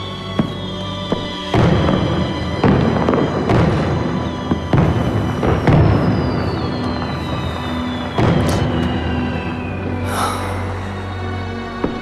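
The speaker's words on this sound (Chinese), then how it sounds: "今晚的烟花，只为了你我。" Fireworks burst in a string of loud booms and crackles during a night celebration at an imperial Chinese palace, with one long descending whistle, all layered over a sustained musical score.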